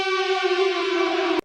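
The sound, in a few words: loud siren heard on war footage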